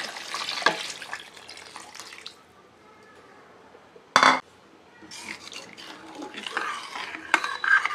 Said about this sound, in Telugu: మనం 1/2 లీటర్ వరకు వాటర్ పోసుకుందాం